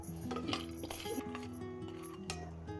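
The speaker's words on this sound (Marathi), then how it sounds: "ह्यामध्ये थोडेसे शेंगदाणे मी भाजत आहे" Peanuts roasting in a hot kadhai rattle and clink lightly as they are stirred, giving a soft, close, irregular scraping and tapping against the metal pan, with no one talking.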